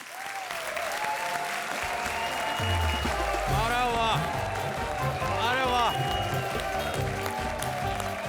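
Studio audience applause at a Hindi TV comedy show, a steady wash of clapping under music and a man's exclamations, with other voices talking over it.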